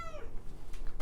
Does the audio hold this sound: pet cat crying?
yes